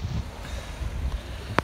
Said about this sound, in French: On a un peu plus de 20 nœuds de vent.